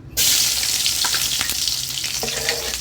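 Bamboo shoots stir-fried with egg in a hot pan start sizzling abruptly, then keep up a steady loud crackle with spatula scrapes and stirring.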